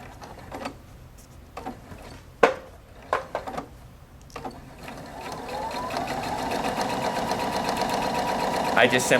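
A Husqvarna Viking Opal 690Q sewing machine, first heard in scattered clicks and taps, then running up into a steady, rising mechanical whir of stitching that continues to the end.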